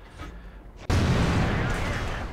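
A sudden heavy tank cannon shot in World of Tanks, an abrupt booming blast that stays loud and rumbling after a quieter lead-in.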